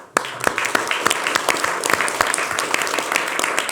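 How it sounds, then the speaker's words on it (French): A studio audience on a French television talk show applauds, a dense run of hand claps starting abruptly and continuing steadily at moderate volume for several seconds. "on peut les applaudir."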